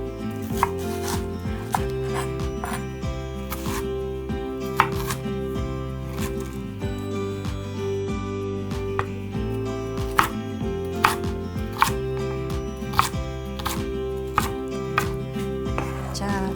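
A knife chops napa cabbage into bite-sized pieces on a cutting board, delivering sharp, fairly regular thuds every second or so, close and clear over a steady low background hum.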